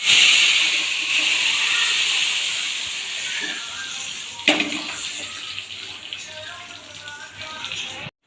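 Dal tipped into a hot pan of sizzling tempering for mango and moong dal curry gives a loud, steady hiss that fades slightly, with a brief clatter midway and an abrupt stop at the end.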